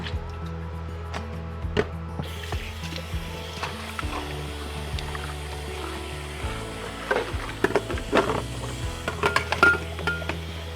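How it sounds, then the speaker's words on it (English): Dishes are washed in a kitchen sink under a running tap, with a steady hiss of water broken by scattered clinks and knocks of crockery, growing busier toward the end. "While that's boiling, I'm going to clean my dishes."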